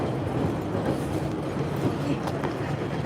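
A Boston MBTA Red Line subway train rushes past Savin Hill station in a loud, continuous rumble and roar with faint rail clatter, heard from aboard a moving train.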